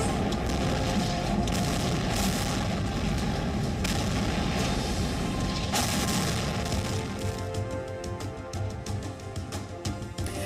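Distant bomb and artillery explosions from the Russia-Ukraine war in the Donbas blend into a continuous, heavy rumble with occasional sharper booms, steady and loud before easing slightly toward the end.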